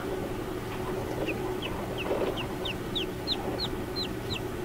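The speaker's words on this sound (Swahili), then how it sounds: "Huyu ni kifaranga tayari" Newly hatched chicken chicks peep inside a homemade egg incubator, a regular series of about a dozen high, sliding chirps, fairly close and clear over a steady low hum.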